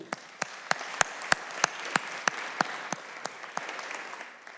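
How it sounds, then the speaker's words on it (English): Legislators in the Illinois House chamber giving a round of applause: a fairly quiet, sparse patter of clapping with distinct sharp claps standing out at a regular rhythm, fading toward the end. "give each and every one of those people a round of applause"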